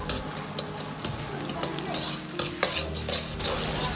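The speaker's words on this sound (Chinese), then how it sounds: "炒出颜色，炒出香味。" Pixian doubanjiang is stir-fried in hot oil with scallion, ginger and garlic for spicy braised lamb trotters. A spatula scrapes and clacks rhythmically against the wok over a continuous close sizzle.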